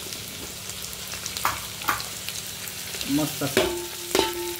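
Onion, garlic, ginger and green chili frying in a pan for chicken tikka biryani, a soft sizzle with a few scraping stirs and clinks, as a voice speaks briefly.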